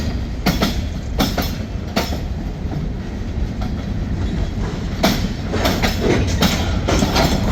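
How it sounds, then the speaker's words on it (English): A Norfolk Southern local freight train pulls out of a yard beside steel mills in Cleveland, close and loud. A rolling rumble runs throughout, cut by repeated clickety-clack wheel hits and a few sharp rail clanks, with no talking. "this is the Norfolk Southern local train leaving Campbell Road Yard by the steel mills in Cleveland, heading to Rockport Yard"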